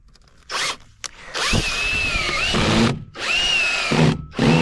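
A power drill drives screws into a post on a Trex viewing deck, with loud whirring bursts that rise in pitch as each screw spins in and then stop abruptly. The drilling is close and has no talking over it.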